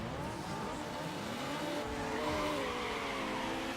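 An Integra races in Need For Speed Underground, its engine droning steadily with some tire squeal, fairly quiet and without talk.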